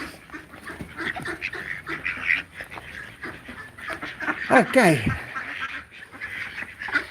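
A duck quacks and honks in loud, close calls over several seconds, with a brief spoken word mixed in around the noisy outdoor sounds.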